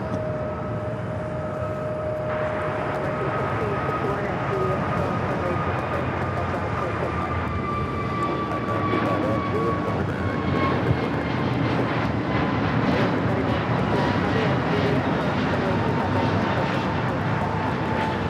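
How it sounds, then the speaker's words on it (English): An American Airlines Airbus A321neo takes off at LAX, its engines a sustained loud roar with a rising whine that holds and builds over the long run, while faint talk sits underneath. "This is American Airlines 119 taking off to Lihue on the A321 Neo."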